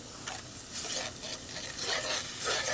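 Kielbasa mac and cheese ingredients sizzling in a pan on a Pit Boss pellet grill, a soft continuous sizzle with stirring scrapes, close and fairly quiet.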